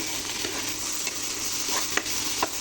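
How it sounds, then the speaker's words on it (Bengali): Chepa dried fish fries in a little oil, a close, bright sizzle with scraping stirs and a couple of sharp ticks from the pan; no one talks. "এবার আমার কাজ হচ্ছে অল্প তেলের মধ্যে শুটকিগুলো ভেজে নেওয়া"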